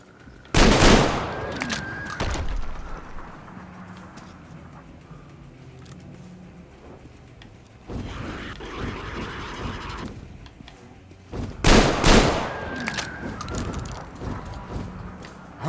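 Shotgun blasts go off in the video game Metro Exodus. Loud, sharp reports come in small clusters, with quieter stretches of rumbling game sound between them and no talking.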